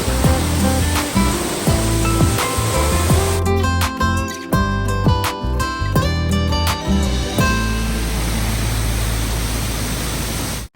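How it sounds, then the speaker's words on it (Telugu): Broad, steady roar of a waterfall in full flow after heavy rains, heard along a road on a trip from Srisailam toward Sabarimala, loud and continuous throughout, with a stretch of clattering sharper sounds partway through. "దారిలో వెళ్తుంటే మంచి వాటర్ ఫాల్ కనబడింది అందుకు వీడియో తీసాము"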